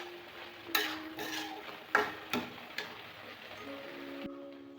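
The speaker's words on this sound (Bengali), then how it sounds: "চিংড়ি মাছটা একসাথে দিয়ে কষিয়ে নেব মশলার সাথে" Small prawns sautéed with spices in a pan, with sharp scraping stirs and clinks of a utensil against the pan over a soft, low sizzle, close and moderately quiet.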